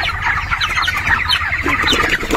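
Poultry chickens on a farm cluck in a dense, continuous chorus, many birds overlapping at close range and fairly loud, with no talk.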